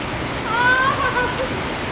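Rain falls in a brief, steady patter, a close wash of drops on surfaces with no break.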